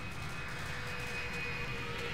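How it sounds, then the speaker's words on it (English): An airplane flies in during a Left 4 Dead 2 match, a steady, unbroken engine drone at an even level throughout, with no speech over it. "there's an airplane coming in to save us"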